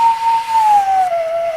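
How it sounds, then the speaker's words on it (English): A homemade paper slide whistle sounds a single sustained tone that slides slowly downward in pitch, loud and close. "Make and Play a Paper Slide Whistle"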